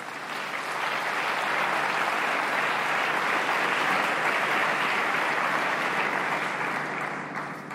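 A church assembly audience at a presidential investiture in Côte d'Ivoire claps loudly and continuously, broad sustained applause that swells and then eases off toward the end.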